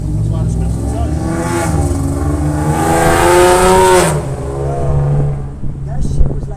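A car engine revs hard and screams at high pitch, loud and sustained for several seconds before easing off, with people talking over and around it.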